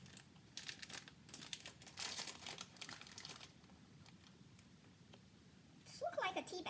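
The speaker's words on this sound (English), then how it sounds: "now we're just opening up this, which is your cooking spice pouch" A plastic cooking spice pouch being torn open and handled, close, soft crinkling and rustling bursts with a tearing rip at the end, a voice talking faintly underneath.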